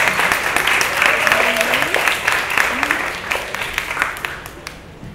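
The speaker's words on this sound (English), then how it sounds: "So please, round of applause for the panel." An audience applauds steadily, a sustained rush of clapping with a few voices audible underneath, gradually thinning toward the end.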